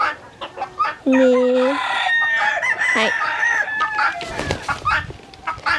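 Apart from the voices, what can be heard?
chickens clucking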